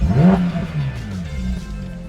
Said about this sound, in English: The exhaust down here inside have a flappy mode.